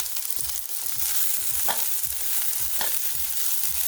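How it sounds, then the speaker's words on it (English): Onion with garlic sautés in a pan, a soft steady sizzle with rhythmic stirring strokes and low thumps of the spatula repeating every half second or so, no voices. "Lightly saute the onion"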